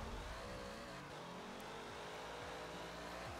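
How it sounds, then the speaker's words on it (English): A Hot Wheels car engine revs steadily in Forza Horizon 4, a continuous mid-pitched engine drone with rising and falling pitch sweeps, loud and close, with rain-like noise underneath and no voices. "I'm pretty sure this is a new engine sound"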